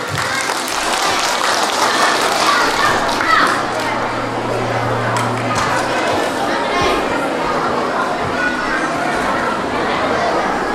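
A church congregation at a Catholic parish Christmas carol evening bursts into loud, sustained applause for the parish priest, with crowd chatter and children's voices mixed into the dense clapping.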